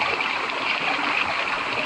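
River water flowing steadily in the Stacy Siren Head game, a continuous close rushing and burbling with no pauses.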